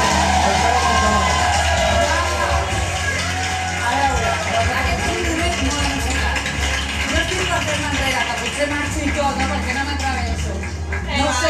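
A studio audience at a televised talent-show final applauds and cheers loudly, with shouts and whoops over dense clapping and a low musical hum underneath throughout.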